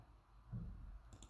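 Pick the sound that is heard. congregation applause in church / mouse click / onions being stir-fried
mouse click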